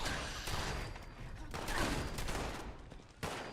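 Automated turrets firing in Fallout 76, rapid bursts of gunfire in quick succession with dense crackling shots, fairly faint overall with a brief pause before a final burst.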